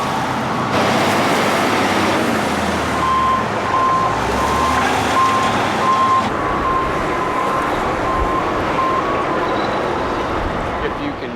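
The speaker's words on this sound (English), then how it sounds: "see that truck heading up the hill there." A large mining truck climbs a hill at a coal mine site, its engine rumbling steadily while a reversing alarm beeps in an even repeating rhythm; someone talks over the machinery.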